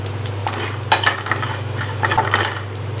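Whole spices, pepper, fennel and cumin, dry-roasting in a pan for mutton chukka, a spoon scraping and stirring with repeated light clinks over a steady low hum, close and clear with no talk.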